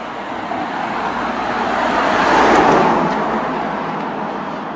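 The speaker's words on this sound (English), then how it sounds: "I can hear a car coming." A car drives along a quiet country road in the Cuckmere Valley, approaching, swelling to a peak midway, then fading as it passes, with no talking.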